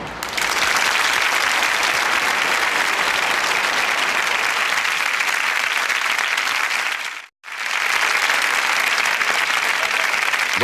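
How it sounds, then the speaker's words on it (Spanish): Sustained applause from a large theatre audience at a Pepe Rubianes comedy stage show, steady and loud, breaking off abruptly for a moment before resuming at full strength. "Yo oigo los aplausos."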